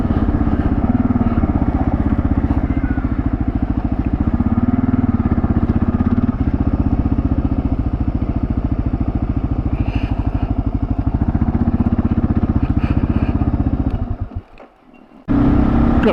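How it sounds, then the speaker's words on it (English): Motorcycle engines drone loud and close on a rough road up Dead Horse Mountain, with a steady rattling roar that holds for most of the stretch before briefly dropping out and returning. "Got a couple of bikes up in front of us."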